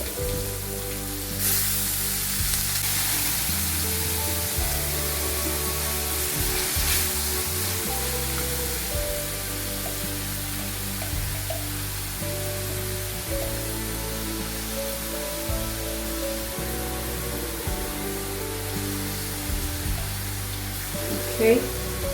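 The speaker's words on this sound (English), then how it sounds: "Let's add the onions." Onions fry in a kadai for a Butter Palak Paneer Kadai Burji, giving a steady broadband sizzle like light rain, with a faint voice underneath.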